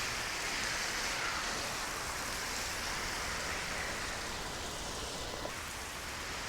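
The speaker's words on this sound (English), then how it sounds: "It's raining like a mob." Steady heavy rain hisses in a dense, unbroken wash of noise, loud and close, with no voices.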